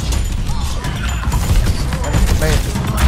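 Rapid gunfire and crashing explosions from Overwatch 2 play with Junkrat and Sojourn, dense and continuous throughout, with someone talking excitedly over the din.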